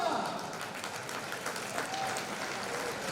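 A crowd applauds at a football match between Ubroker Bassano and Lanaro Breganze in a broad, steady roar of clapping, while an announcer's amplified voice talks over it.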